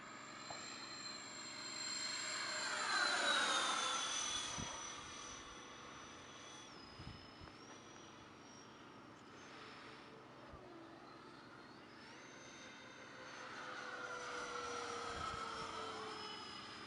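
A remote-controlled FMS A-10 model jet with electric ducted fans flies overhead, its thin whine rising and falling in pitch as it passes near and far, fairly faint and steady, with no talk over it.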